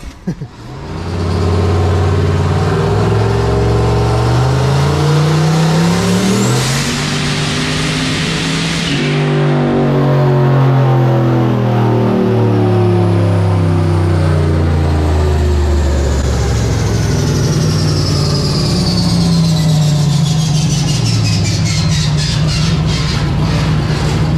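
A turbocharged, nitrous-fed Chevy 5.3 V8 runs hard on a dyno, climbing through a long loud rev sweep with rising harmonic whine, then settling and surging again with turbo hiss near the end.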